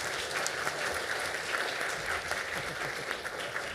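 An audience at an academic quiz competition claps steadily, a dense continuous wash of applause from many hands filling the room without pause.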